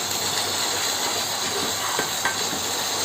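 Spices fry in oil for spicy chappala pulusu. A steady, close sizzling hiss runs throughout, with a few faint clinks and no voices.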